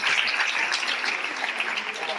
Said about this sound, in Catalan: Un aplaudiment per vosaltres molt gran